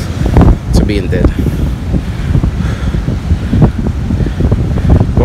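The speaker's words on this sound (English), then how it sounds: "Walking back against the wind." Strong gusting wind on a beach buffets the microphone in loud, continuous rumbling blasts, with surf in the background and people talking over it.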